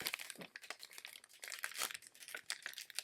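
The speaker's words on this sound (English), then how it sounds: "I'm going to try to peel this back slowly" Rhinestone transfer tape slowly peeled back off a shirt with embroidery, giving a steady run of close, crinkly crackling and faint tearing with no voices.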